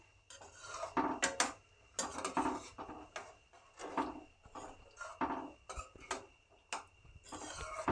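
Paneer tikka masala curry being stirred in a pan, with repeated scraping and clinking knocks of a utensil against the cookware in uneven bursts, close and fairly quiet.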